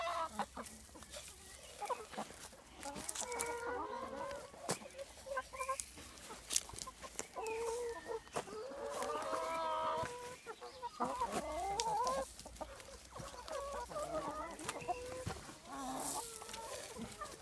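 A flock of chickens clucks and murmurs continuously with irregular sharp pecking clicks, low and moderately near, steady throughout with no talking.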